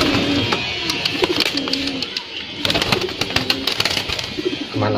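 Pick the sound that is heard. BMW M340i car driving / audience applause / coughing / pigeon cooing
pigeon cooing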